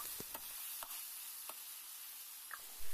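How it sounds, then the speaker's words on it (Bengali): Chicken pieces stir-fried in oil in a pan for a home-style country chicken curry, a steady broadband sizzle with a few sharp scrapes and clicks of a spatula against the pan, close and alone. "এবার ঢাকনা খুলে মাংসটিকে ভালো করে কষিয়ে নিচ্ছি।"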